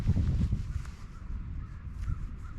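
Blue herons squawk in the distance over a frozen lake, harsh scattered calls faint against a low wind-like rumble outdoors in winter.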